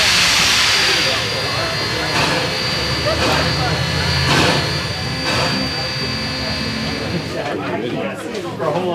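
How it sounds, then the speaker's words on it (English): Old steam engine train letting off a loud, continuous hiss with a few heavier rhythmic chuffs about a second apart, close by and dominant, with people talking nearby. "Old steam engine"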